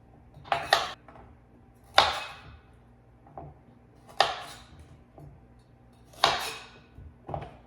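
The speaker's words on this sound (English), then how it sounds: "We're going to go ahead and cut off the ends here, like that." Knife chopping the ends off carrots on a cutting board, four sharp knocks spaced a second or two apart with smaller taps between, close and fairly quiet, no talk.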